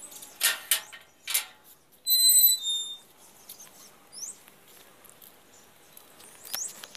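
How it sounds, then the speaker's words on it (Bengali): Birds calling outdoors on a calm morning, several short bright chirps and a few longer whistled notes scattered across a quiet background with gaps of near silence, nobody speaking. "পাখিদের আওয়াজ তো শুনতেই পাচ্ছ"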